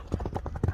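A horse's hooves clip-clop in quick, even beats as it is let loose to run, the footfalls close and fairly loud with a brief snort or whinny-like sound mixed in.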